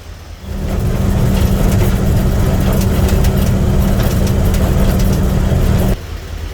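A Jeep engine idles while warming up, a loud, close, steady low rumble that holds evenly for several seconds before dropping off abruptly near the end.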